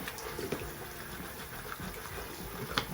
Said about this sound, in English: I'm just going to turn on the water and take this and just scrub over it until I get almost all the paint off